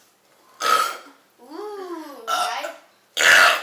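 Three loud, rough burps break out in quick succession during a burping contest, with a short stretch of voiced talk between the first and second.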